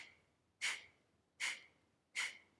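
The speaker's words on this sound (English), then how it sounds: "those of you doing breath of fire, remembering that breath of fire can be slow" Three sharp, forceful nasal exhalations of breath of fire Kundalini yoga breathing, evenly spaced about once every 0.75 seconds, close and clear against a quiet room with no talking.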